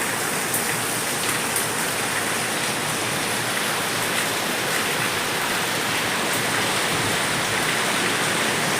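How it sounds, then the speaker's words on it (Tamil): Continuous rain pouring outdoors after a heavy downpour that has begun to ease, a thick uniform hiss with scattered drop ticks, close and steady throughout and with no one speaking. "இருந்தாலும் நல்ல மழை தான், இருந்தாலும் குறைஞ்சிடுச்சு."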